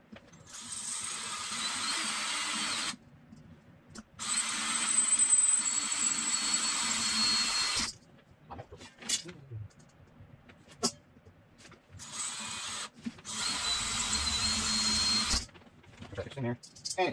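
An electric drill at fast speed, used in building a homemade Jett-style grill, whirs in several sustained bursts with pauses between them, fairly close and loud, with brief clatter in the gaps.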